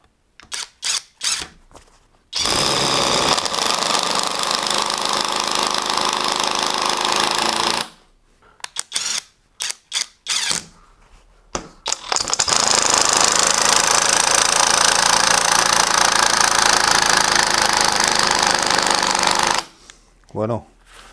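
A Uaoaii 650Nm cordless impact wrench driving screws into wood: loud rapid hammering bursts of several seconds each, separated by short pauses and brief clicks, with no talk over them.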